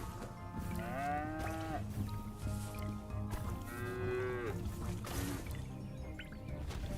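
Two drawn-out cow moos from the video game Moo Lander, set against a constant bed of game music and effects.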